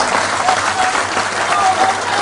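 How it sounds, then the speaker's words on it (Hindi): Loud, dense clapping from a crowd at a BJP party office in Bhopal welcoming Scindia, steady and close throughout, with faint whistles mixed in. "एक बार तालियां बजा के जोरदार स्वागत कीजिए सिंधिया जी का"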